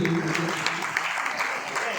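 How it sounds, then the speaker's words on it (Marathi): Applause for an award at a ceremony in a packed hall: a broad, steady wash of clapping from a crowd that holds at an even level throughout, with some voices audible underneath. "संतोष मानकरांच्या पुरस्कारासाठी जोरदार टाळ्या"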